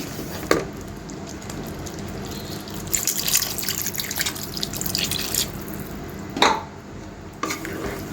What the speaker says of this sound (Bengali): এখন একটু ঝোলের পানি দিয়ে দিই।